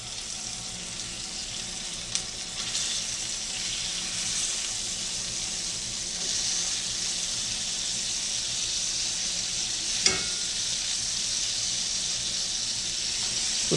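Beef steaks sizzle over charcoal in a steady, close hiss that runs the whole time, broken by a couple of faint taps, with no talking.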